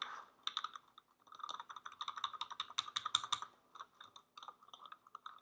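Typing on a computer keyboard at a desk, close and fairly quiet, with irregular bursts of clicking keystrokes, a dense flurry in the middle and short pauses between runs, no talking.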